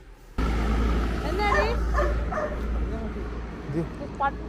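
A dog barks and yips in several short bursts, fairly close, over a steady low rumbling hum.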